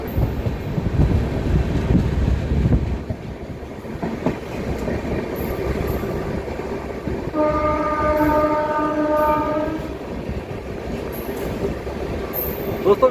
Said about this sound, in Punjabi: ਵਿਸਲ ਦੀ ਆਵਾਜ਼ ਤੁਸੀਂ ਰੈਗੂਲਰ ਸੁਣ ਸਕਦੇ ਆ ਜੀ